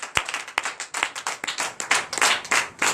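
A church congregation claps in acclamation during a Sunday worship service in Benin, a brisk run of sharp, uneven hand claps close by that thickens into scattered applause.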